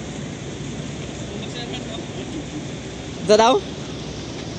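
Typhoon rain at a port falls as a steady broadband hiss. A short spoken question cuts in briefly near the end.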